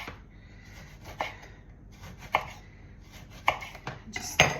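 A knife slices through an orange on a cutting board, about six crisp, close cuts spaced unevenly against a quiet background.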